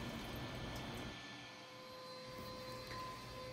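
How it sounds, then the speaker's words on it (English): A vacuum cleaning out the flue collector of a 2,000,000 BTU commercial boiler in New York gives a steady, loud, broadband roar that holds without a break and shifts slightly midway. "I'm about to start vacuuming out the flue and the"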